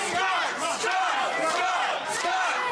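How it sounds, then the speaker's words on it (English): A wrestling crowd at a WFA Reborn match loudly chants and cheers in a continuous roar for Scott Reed against Brandon Locke. "Crowd firmly behind Reed."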